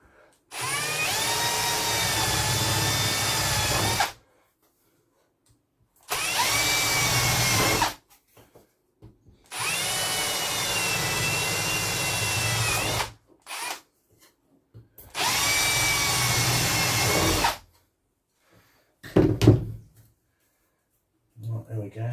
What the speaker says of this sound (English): I'm going to drill our holes in the corner